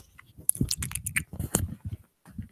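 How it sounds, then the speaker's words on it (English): A mouth noisily chews a spoonful of soft, sloppy food, with wet bites and squishes in irregular bursts, close to the microphone and separated by brief pauses. "You hear me chew it?"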